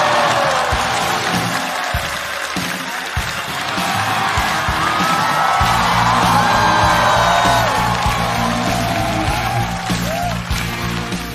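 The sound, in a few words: audience applause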